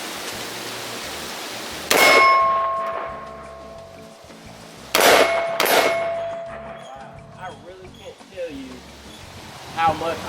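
Gunshots from a Radical Firearms RF15 AR pistol, each a sharp loud crack with a bright metallic ring from steel targets downrange, three shots spread apart, with faint ringing tails and some low background noise between.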